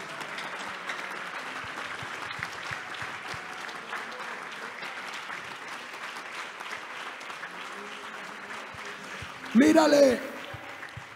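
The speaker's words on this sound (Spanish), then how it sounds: "¿Por qué no le dé un aplauso al Señor en esta hora?" Church congregation clapping for the Lord during an evangelical service, steady applause under a preacher's voice that carries through most of the stretch, swelling briefly louder near the end.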